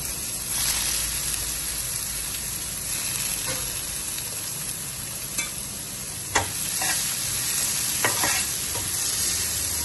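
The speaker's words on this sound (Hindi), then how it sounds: "बारीक कटी हुई गाजर डालेंगे, हल्का सा फ्राई करेंगे इनको।" Finely chopped carrots fry lightly in a little oil in a pan, a steady close sizzle broken by a few sharp stirring scrapes and clicks, with no talking.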